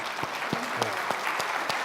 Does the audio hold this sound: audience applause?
yes